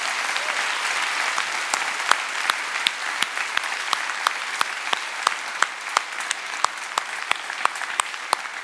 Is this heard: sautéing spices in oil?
no